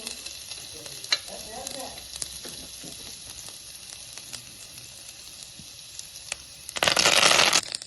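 Ginger pieces fry in a couple of spoons of reused hot oil in a pan, a steady low sizzle with light clinks and stirring, swelling into a loud, bright hiss near the end.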